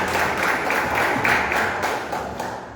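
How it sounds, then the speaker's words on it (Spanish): Church congregation applauding in praise, a steady wash of many hands clapping at moderate loudness throughout, with no voices standing out. "Uma salva de palmas para o nosso Senhor."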